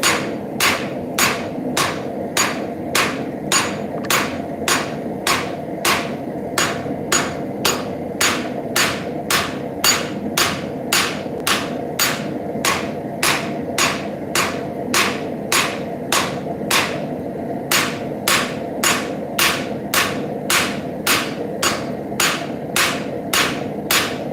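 A cross-peen hammer forging a hot railroad spike on an anvil, striking in a steady, evenly spaced rhythm of sharp ringing blows, close and loud, with no talking.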